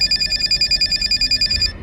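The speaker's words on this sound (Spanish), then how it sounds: "empieza a sonar mi móvil." A mobile phone rings inside a house, sounding as a loud, close, steady run of rapid trilling bursts with no other sound, until it cuts off just before the end.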